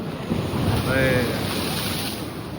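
Heavy sea waves surge and crash at the shore by the Balkeshwar Mahadev temple in Dwarka, a loud, dense roar of surf with wind buffeting close to the microphone.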